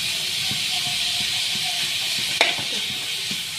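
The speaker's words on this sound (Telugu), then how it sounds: "కొద్దిగా ఆయిల్ పోసి దీంట్లో కొద్దిగా లైట్గా ఫ్రై చేసుకుందాం." Onions and ginger paste frying lightly in oil give a steady, even hiss, close by, with a single brief clink partway through.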